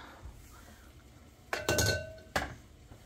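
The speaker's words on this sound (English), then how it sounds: "Into the ice bath they go." Taiwan yard long beans dropped into an ice bath give two sharp clinking splashes, one cluster at about a second and a half and a single hit near the end, with quiet room tone around them.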